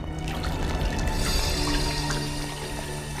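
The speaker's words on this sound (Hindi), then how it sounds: "पानी क्या हुआ? ऊपर से आ रही?" Water drips and trickles down from above inside a house, a continuous close wet patter and splashing lasting about three seconds, with no talk.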